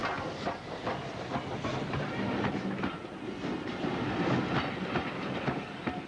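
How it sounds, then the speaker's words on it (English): A Southern Railway Schools Class steam locomotive rumbles past on an up service in Kent, with rhythmic clickety-clack of wheels on rails and a hissing background, fairly close and steady. "A Schools Class 440 is on the up service."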